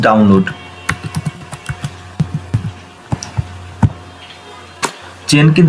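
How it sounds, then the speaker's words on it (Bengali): Someone types on a computer keyboard at a desk, a series of scattered close key clicks in an irregular rhythm, with a person speaking at the start and end. "এখানে গিয়ে আমরা লিখব জেনকিন্স"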